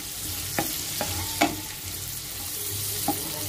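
Reddened onions frying in a pan with turmeric and red chili powder just added, a steady soft sizzle broken by a few distinct spatula strokes scraping and knocking against the pan.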